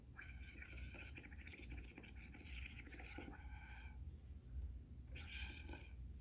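Air blown through a straw into a cup of soapy liquid, making a steady bubbling gurgle close by that runs for several seconds, pauses, then starts again in a shorter burst.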